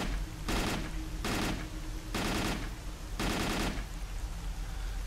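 Four loud bursts of rapid automatic gunfire from S.T.A.L.K.E.R. Call of Pripyat, each roughly half a second long and evenly spaced, with no talking over them.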